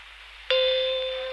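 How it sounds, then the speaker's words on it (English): A quiz show bell strikes once, a bright clear ding that rings on and slowly decays over about a second. "the bell rang and they shouted it from the audience"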